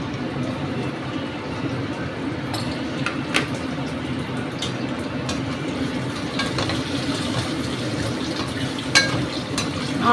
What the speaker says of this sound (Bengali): আগে ভাজবো গাঁটি কচুটা